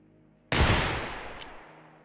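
In the game Receiver 2, one sharp gunshot cracks out abruptly after a quiet moment and leaves a decaying echo, with a faint metallic click shortly afterward.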